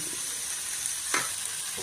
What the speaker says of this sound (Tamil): இது எல்லாத்தையும் இதில் சேர்த்து நல்லா கிளறிடுறேன்.